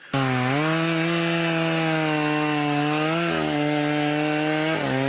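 A chainsaw engine roars loudly and continuously, its pitch dipping briefly and then climbing again as it revs.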